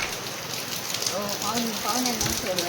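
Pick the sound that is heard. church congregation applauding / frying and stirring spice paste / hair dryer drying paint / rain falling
rain falling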